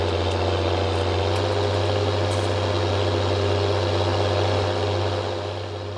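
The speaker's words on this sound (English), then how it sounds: "God, this tractor's so loud." A tractor engine runs loud and close at Attingham Park, a constant heavy drone with a strong low hum that holds steady from start to end.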